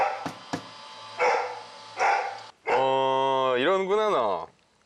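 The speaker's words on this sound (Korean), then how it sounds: "설쌤을 보자 역시나 짖는 타니." A dog barks at a visitor arriving at the door, with several sharp, loud barks followed by a long, drawn-out, whining howl-like vocalization, close and indoors.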